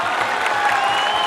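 Crowd at a live comedy or stage event applauding for Imran Khan; a short, continuous wash of clapping, evenly loud and diffuse, with no voices standing out.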